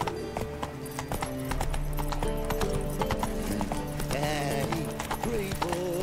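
In The Witcher 3 video game, the horse Roach clip-clops with a steady rhythm of hoofbeats under orchestral game music, with a brief whinny near the end and a voice speaking over it.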